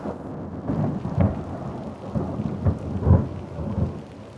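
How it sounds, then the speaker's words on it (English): Thunderstorm with rain at a campsite in France: steady rainfall hisses throughout while several deep thunder rumbles roll in, loudest around the middle and near the end, with no voices. "we headed back to the campsite just in time before the thunderstorm arrived that lasted all night"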